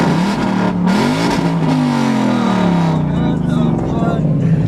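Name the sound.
5.0 engine revving after headers replacement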